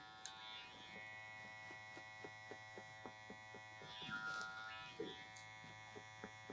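Electric hair clippers fitted with a number 1 guard buzz steadily while trimming a high taper, a close continuous mechanical drone with short strokes and clicks across the cut.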